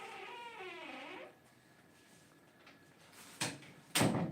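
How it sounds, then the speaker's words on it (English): A door being shut indoors, a soft thud followed by a louder, sharper bang as it closes, after a short wavering vocal sound and a quiet pause. "Shut the door, 'cause fire."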